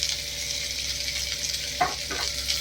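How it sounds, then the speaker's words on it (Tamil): Coconut frying in a hot pan over a low flame, a steady close hiss with two brief stirring scrapes near the end, alone without talk. "தேங்காய் போட்டு ஸ்டவ்வை சிம்மில் வச்சுக்கலாம்."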